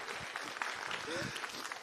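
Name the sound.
audience applause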